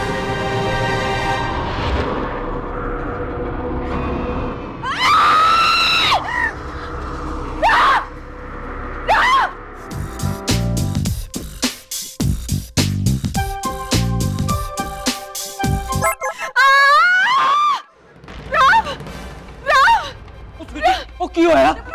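A woman screams in a Hindi television drama scene, her cries rising over dramatic background music and sound effects, with other voices talking around her.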